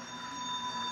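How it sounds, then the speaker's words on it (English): A BN freight train rolls along the tracks with a continuous rumble and steady, high-pitched squealing tones. "there seems to be a different train on the near track"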